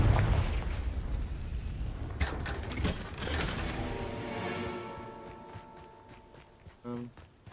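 Confringo fire-blast spell in Hogwarts Legacy, with booming blasts and rumbling impacts up front that fade into trailing mechanical clatter and tonal game effects, a final short burst near the end.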